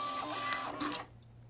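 A Star Micronics FVP-10 thermal receipt printer gives a short, close whirring burst of feeding and printing that lasts about a second, then cuts off into quiet.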